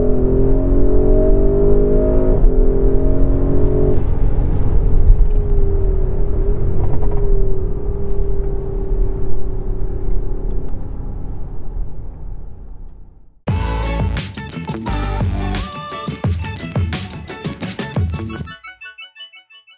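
A Porsche Cayenne Turbo S E-Hybrid Coupe engine, heard after its drive mode knob is turned, gives a steady, loud low rumble with shifting revs for about thirteen seconds before music abruptly takes over.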